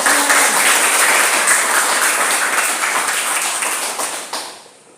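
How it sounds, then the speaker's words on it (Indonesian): Applause from a group of students in a school class during a teacher-training session on a rainy, overcast morning: dense, loud and continuous, tapering off toward the end. "Tepuk tangan dong buat kalian semua."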